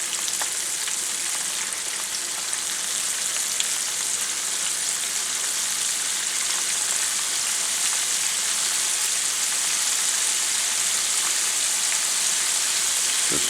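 Shrimp fry in hot oil for Southern-style Creole fried shrimp, giving a steady, loud, unbroken sizzle and crackle that stays even throughout, close up, with no talk.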